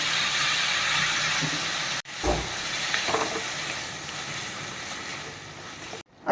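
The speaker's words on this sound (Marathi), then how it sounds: "आता जो मसाला परततच आहे" Masala paste fries in a pan for cauliflower and potato curry, a dense, steady hiss broken by short cuts and a low clunk of the pan.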